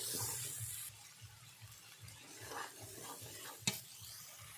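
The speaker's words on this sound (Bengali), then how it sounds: "এবার ভালো করে মশলাটা আমি কষিয়ে নেব।" Spice masala with pepper, chili, cumin and coriander powder stir-fried in a pan for chicken biryani: soft rhythmic scraping strokes over a faint sizzle, quiet and close, with one sharper knock near the end.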